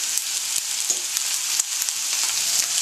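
Bone-in New York strip steak searing in a smoking-hot skillet, a steady loud sizzle with crackling pops throughout and no voices.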